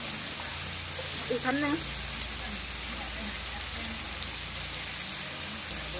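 Steady rain falling on surfaces outdoors, a dense even hiss that carries through the whole stretch, with a brief voice speaking over it partway through.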